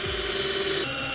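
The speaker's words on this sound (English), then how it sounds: "I'm gonna just put two cabinet screws in to hold it in place." A power driver sets thin cabinet screws into wood while building an outdoor chicken run, giving one brief, loud whirring burst that stops abruptly.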